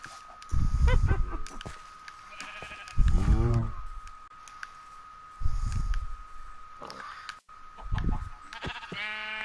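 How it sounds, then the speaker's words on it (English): Sheep in Minecraft bleat several times in short, wavering bursts, loud and close, with a steady electronic tone running underneath. "I just killed another sheep"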